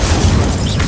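The Incendio fire spell blasting in Hogwarts Legacy, a loud, close, roaring whoosh of flame and rumbling boom that fills the whole brief moment.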